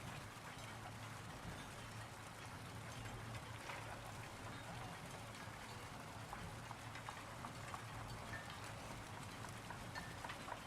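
Procedural shader rain falls in a modded video game world, a steady, quiet hiss of many droplets spread evenly over ten seconds, with a low hum underneath.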